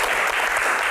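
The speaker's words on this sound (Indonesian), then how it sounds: "tepuk tangan." A Q&A audience bursts into brief, loud, dense clapping that fills the whole short moment.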